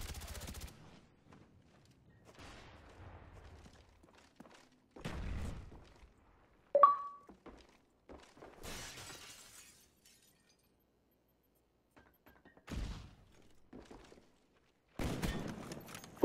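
Scattered gunshots ring out in a Black Ops match, sparse sharp cracks separated by quiet gaps, with one brief bright ping in the middle.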